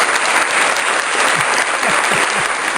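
A studio audience applauds during a sports talk show, a short steady wash of loud clapping lasting a few seconds with no speech over it.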